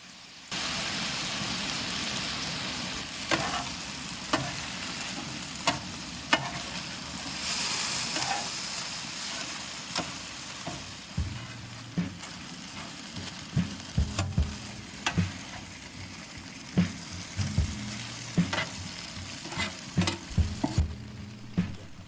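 Beef and onion stir-fry on a hot griddle with a broad, continuous sizzle, punctuated by repeated spatula scrapes and taps that grow busier and more rhythmic in the second half.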